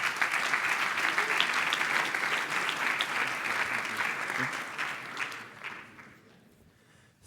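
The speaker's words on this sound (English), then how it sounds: "A big round of applause for Justus." Audience applause for a startup speaker at a demo day event, dense sustained clapping that fills the room, then fades out over the last seconds.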